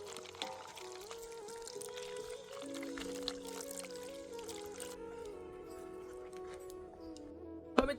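Water poured over cashew nuts in a bowl to soak them gives a soft, steady pouring trickle, faint and close, set against a low sustained tonal background.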